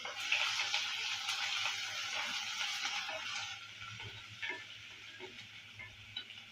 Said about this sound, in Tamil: அதை கிண்டி விட்டுக்கலாம்.